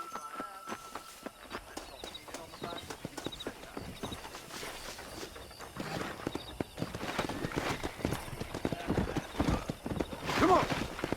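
Horse hooves clip-clop steadily while riding in Red Dead Redemption, a brisk repeated rhythm of close hoofbeats that speeds up toward a run, with a whinny and a voice speaking over the game sounds.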